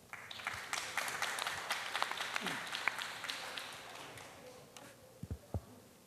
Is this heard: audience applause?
yes